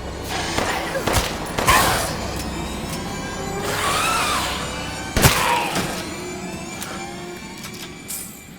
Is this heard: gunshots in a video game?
yes